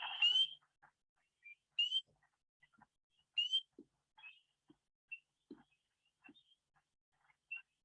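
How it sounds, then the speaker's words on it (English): Spring peeper frogs call at night in a sparse outdoor chorus: a few clear, high rising peeps stand out, with fainter scattered chirps and calls spread across the quiet background. "the dominant one you hear is the spring peeper"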